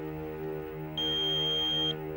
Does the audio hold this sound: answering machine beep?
yes